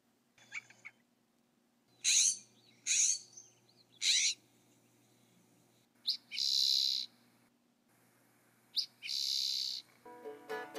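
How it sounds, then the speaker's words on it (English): Birds call in a California riparian forest, giving a series of separate hoarse and whistled cries, some owl-like, each short and spaced by quiet pauses over a calm background. "Birds abound in the riparian forest."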